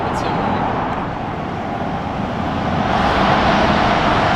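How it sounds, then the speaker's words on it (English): A Tesla Cybertruck accelerates inside a road tunnel, a loud steady roar that swells toward the end, with the echoing rumble filling the space. "let's see what this thing sounds like in this tunnel here"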